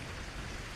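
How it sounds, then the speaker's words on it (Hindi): Rain begins to fall in a Hindi children's cartoon, heard as a dense, steady wash of broadband noise across a very short stretch. "तभी बारिश भी शुरू हो जाती है"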